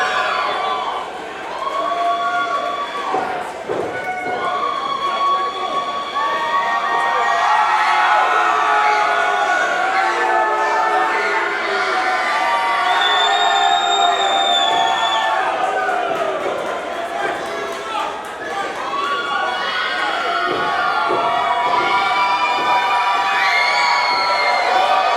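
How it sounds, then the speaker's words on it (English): A crowd at a Halloween wrestling event cheers and shouts wildly, a sustained roar with whoops and bursts of excitement while a commentator talks over it. "And the crowd goes wild"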